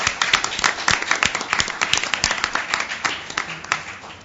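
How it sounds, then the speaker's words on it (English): A forum audience on poverty law applauds the panelists, with distinct sharp claps standing out from a moderate, steady round of clapping that thins slightly toward the end. "Let's give them our applause."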